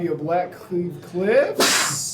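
A sharp, loud sneeze bursts out at the end, right after a voice, during a Modern Magic: The Gathering tournament match between Boomer Jund and Rakdos Scam.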